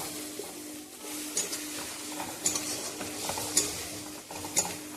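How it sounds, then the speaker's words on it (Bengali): Fish masala with cumin and coriander powder sautés in a pan, a soft low sizzle under intermittent clinks and scrapes of a spoon stirring every second or so, quiet and close, with no talking. "ভালো করে কষাতে লাগবে।"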